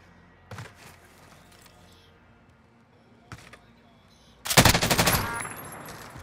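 A rapid-firing gun in Call of Duty: Modern Warfare lets off a few scattered single shots, then a loud sustained automatic burst near the end, quiet game ambience in between.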